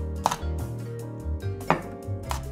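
Knife finely slicing bird's eye chilies on a board for northern-style laksa, a few crisp close cuts spaced out over a quiet kitchen background.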